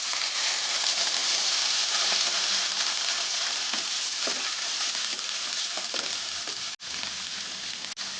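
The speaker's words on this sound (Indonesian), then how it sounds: "Tumis sampai agak matang." Enoki mushrooms with carrot and green beans stir-frying in a splash of water, making a loud continuous hissing sizzle close up, broken by a couple of brief stirring knocks, with no speech.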